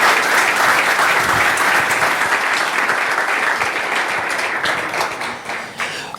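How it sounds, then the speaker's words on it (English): A large audience at a world bowling coaches' conference applauds in a thick, sustained round of clapping that stays loud and even before thinning slightly near the end. "Let's give a round of applause to our European friends."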